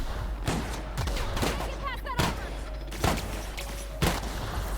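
Gunfire from weapons in the video game The Outer Worlds, a handful of sharp, spaced shots roughly every second over low game ambience, with a voice talking in between.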